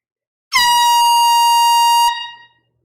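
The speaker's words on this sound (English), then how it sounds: "didn't even know an air horn was about to be blown" A single loud air horn blast, a sustained bright blaring tone lasting about a second and a half before cutting off with a brief fading tail.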